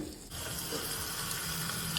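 Water poured steadily into a cooking pot holding a dal tempered with mustard seeds, asafoetida, turmeric and curry leaves, a continuous close rushing splash lasting about two seconds after a brief quiet start.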